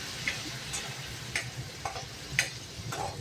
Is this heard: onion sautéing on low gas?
yes